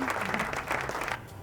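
An audience on a televised cooking competition claps in a brief, dense burst of applause that fades out near the end.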